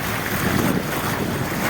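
A boat moves across the open sea, with a steady, loud rush of wind and water noise throughout and no voices.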